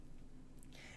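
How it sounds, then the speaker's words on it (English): A pet cat meows faintly at a door, one brief high call late in the moment over steady low room noise, somewhat distant and quiet. "If you hear that, that is my cat."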